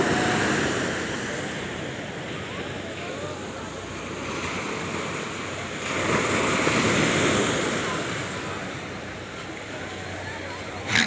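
Big ocean waves surge and wash continuously at Calayo Beach, Nasugbu, Batangas, mixed with wind buffeting the microphone, with swells rising and falling in strength.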